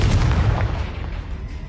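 Confringo blasting spell exploding in Hogwarts Legacy, a loud booming burst with a dense low rumble that decays over a second or so.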